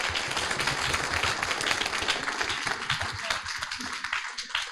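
Crowd at a climate startup pitch final applauding, a thick burst of sustained clapping with some faint background voices, loud and continuous before thinning slightly at the end.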